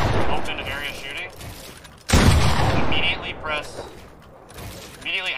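Gunfire from shooting in an open area in the Fortnite video game, several bursts of shots with a loud blast near the middle, under someone talking throughout.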